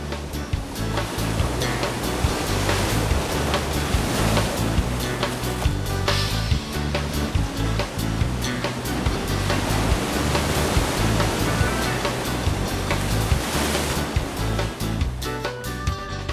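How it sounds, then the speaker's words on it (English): Ocean surf at Bells Beach, Australia, with waves up to 5 metres, roars continuously close by, a dense wash of breaking water with irregular crashes and hiss, no voices. "Waves up to 5 metres high attract surfers from all over the world to Bells Beach."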